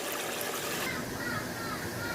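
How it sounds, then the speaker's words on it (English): Chicken simmering in water in a covered pot for a desi pasta dish, giving a steady, faint bubbling and hissing wash that stays even throughout, with no talk over it. "this is the chicken sort of simmering in the water"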